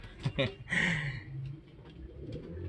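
Racing pigeons coo softly in a few brief, faint calls during a derby race, close by against a quiet background.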